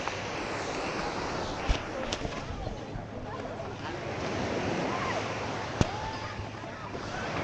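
Surf washing onto a beach in Tenerife, a steady broad wash of waves with wind noise across the microphone and a couple of sharp knocks, no talking.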